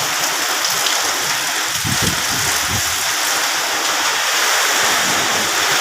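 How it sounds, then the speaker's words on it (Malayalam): Heavy rain lashes down in a strong wind in Palakkad's Kalpathy area, a dense, steady roar of downpour filling the whole clip, loud and close, with a few low gusty thumps near the middle. "മഴ പെയ്താൽ കൂടി കുഴപ്പമില്ല, പക്ഷെ ഇങ്ങനെ കാറ്റടിക്കുമ്പോൾ പേടിയാവണോ"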